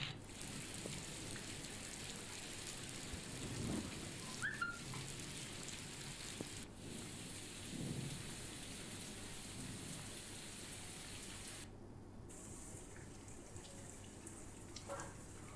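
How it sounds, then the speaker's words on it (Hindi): A thunderstorm brings heavy rain with strong winds, a dense, steady hiss of rain on surfaces, and low rumbles of thunder rolling in now and then, heard from outdoors with no one talking. "यहां तेज हवाओं के साथ बारिश ने दस्तक दी, जो घंटों भर तेज तूफान के साथ झमझमाझम बरसती रही।"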